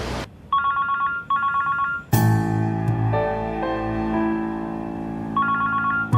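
A telephone rings on an unanswered call, repeating in steady bursts before a louder electronic tone takes over partway through and runs on. The sound is loud and close, with no talk.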